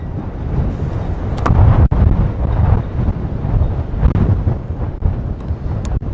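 Strong outdoor wind buffets the microphone in loud, continuous low rumbling gusts, with brief dips and surges and no talking.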